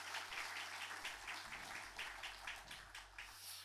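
A church congregation claps in encouragement during a worship service. The applause is faint and distant, a steady patter of many hands over a low background hum, lasting the whole few seconds.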